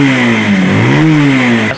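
Rouser 180 motorcycle engine, recently repaired after a carburetor problem, revved hard close up, its loud buzzing note dipping and climbing again as the throttle is worked.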